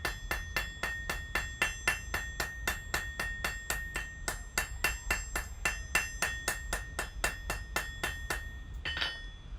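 A blacksmith taps small, thin hot metal stock on an anvil in a smithy. Light hammer blows ring out in a quick, steady run of about thirty strikes, close and bright, with no talking.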